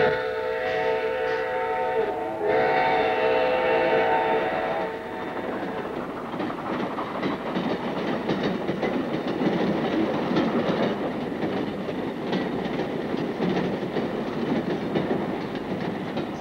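A train rolls along the rails with a steady rumble and rhythmic clatter; a tonal hum early on fades as the wheels keep clacking.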